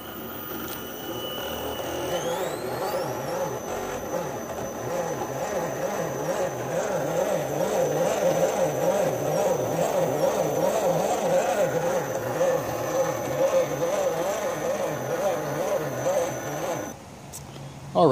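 TenShock 906 six-pole unsensored brushless motor in an RC rock crawler straining on carpet: a continuous electric whine with a rapidly wavering pitch, fairly quiet and steady for most of the stretch, cutting off near the end.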